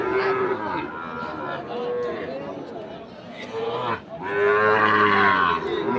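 Sahiwal cattle moo loudly and repeatedly at a busy village cattle market, long low calls rising over a constant background of crowd chatter and nearby voices.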